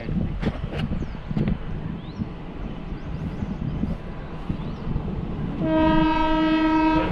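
A passenger train running from Savarkundla to Bhavnagar pulls out with a low rumble and some clanks, then its horn blares loud and sustained near the end.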